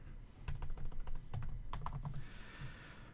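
Quiet typing on a computer keyboard, quick clusters of key clicks with short pauses, close and soft, heard alone.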